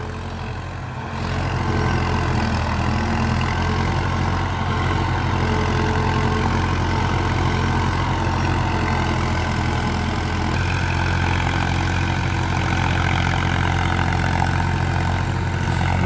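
A Massey Ferguson 241 tractor engine drives an 8-foot rotavator, a steady, loud diesel drone that holds an even pitch throughout with no voices.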